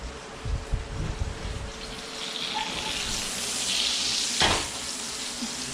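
A steak sizzles and fries in a hot pan with a steady hiss, interrupted by a few clanks and scrapes as it is flipped, close by and with no talk.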